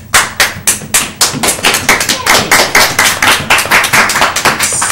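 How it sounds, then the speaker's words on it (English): Clapping from a studio audience at a pagan-themed talk show comes as a loud, close, fast and evenly paced run of sharp claps, with no break throughout. "Applause, applause."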